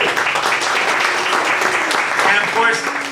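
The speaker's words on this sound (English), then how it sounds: "a big round of applause, please, for Domingo Garcia" Warm applause for Domingo Garcia at a Dallas community breakfast, a dense crowd clapping steadily with voices and cheers mixed in and rising slightly toward the end.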